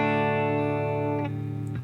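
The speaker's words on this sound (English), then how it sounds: "It's the Duesenberg that I play, Duesenberg TV Phonic." A Duesenberg TV Phonic electric guitar on the middle pickup with no effects, a sustained clean chord ringing steadily, then a quick change to another sustained chord near the end.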